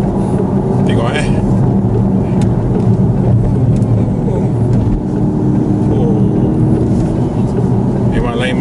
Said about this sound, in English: So bunyi engine dia daripada speaker lah.